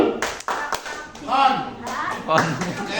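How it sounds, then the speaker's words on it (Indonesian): A group, likely children at school, performs the rhythmic Indonesian clapping game "tepuk konsentrasi": patterned bursts of claps and taps under near, overlapping chanting voices. "Tepuk konsentrasi."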